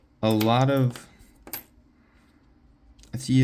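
Copper and zinc pennies tumbling out of a coin roll, a close burst of ringing metallic clinks followed by a few scattered taps and another short spill.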